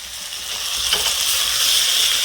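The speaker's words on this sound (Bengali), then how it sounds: "ঝিঙে আলু কষানো হয়ে গিয়েছে" Ridge gourd and potato pieces frying in spices in a pan, a steady close sizzle with stirring scrapes, loud and continuous throughout with no talking.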